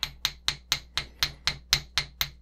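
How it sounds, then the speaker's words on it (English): A fast, regular series of sharp metal-on-metal hammer strikes on wire against a metal block, about four per second, close and crisp with no talking. "I'm going to flatten the wire just a little bit"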